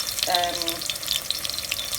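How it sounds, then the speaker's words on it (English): Blended pepper boiling in a pot of tomato-based stew with crunchy fried onions, giving a steady close bubbling and sizzling hiss throughout, with a brief clatter early on. "So I gently add my blended pepper, which is boiling here."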